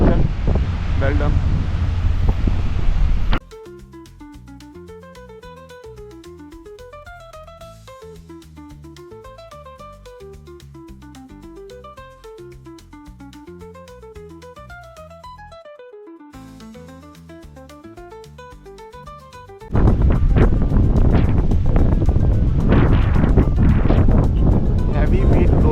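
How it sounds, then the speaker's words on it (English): Heavy wind buffets the microphone outdoors in Punta Arenas or Puerto Natales, Chile, a loud, rough roar for the first few seconds that gives way to music and returns just as strongly near the end. "Heavy wind blowing here because of the wind."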